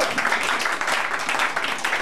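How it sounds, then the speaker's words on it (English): A church congregation claps hands together during a sermon, a dense, steady wash of applause from many people filling the room, loud and continuous. "Clap your hand for Jesus."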